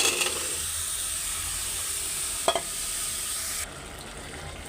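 Vegetables tossed into spice paste frying in a pan, a steady close sizzle and hiss with a sharp clatter midway, then a quieter sizzle after the heat or stirring shifts.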